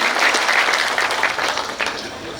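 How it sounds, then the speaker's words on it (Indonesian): Audience applause at a ceremony in Kediri where electric pedicabs are handed to beneficiaries, a steady broadband wash of many hands clapping that holds loud and even, with a brief dip near the end before swelling again. "Tepuk tangan untuk teman-teman yang menerima manfaat"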